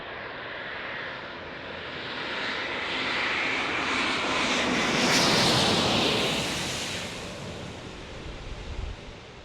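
A large airliner at San Diego International Airport roars overhead, its jet engine noise swelling to a loud peak mid-pass and then slowly fading, with no talk.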